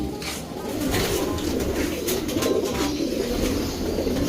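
Pigeon cooing from a Kuipers-line breeding bird in a loft as it is paired with a hen, soft repeated low coos close by over a steady background hum, with no talking.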